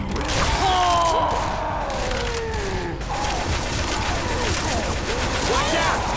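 Gunfire in the game Left 4 Dead 2 comes as dense rapid bursts and mechanical clatter, loud and close, mixed with gliding in-game tones and a voice speaking over it.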